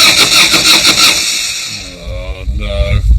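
A motorcycle engine cranks and catches on a Wild West road trip, a rough starter whirr giving way to a low rumbling idle, close by, with voices talking over it.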